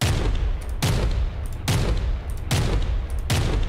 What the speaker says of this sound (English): This sounds like some kind of big bolter.